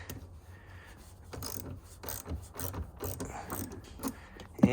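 A ratchet wrench clicks in short bursts while loosening the accessory battery under a trunk panel of a 2004 Mercedes-Benz SL500 R230, the quiet mechanical ticks close and alone.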